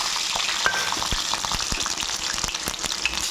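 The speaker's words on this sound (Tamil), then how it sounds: "நான் மூணு டேபிள் ஸ்பூன் கடலை எண்ணெய் ஊற்றி சுட வச்சுருக்கிறேன் இப்போது ஒரு இருபத்தஞ்சி பூண்டு பல்ல இதில் போட்டுக்கலாம்" About twenty-five garlic cloves fry in three tablespoons of hot groundnut oil for a fish garlic curry, a steady close sizzle broken by sharp clicks of stirring against the pan, with no talk.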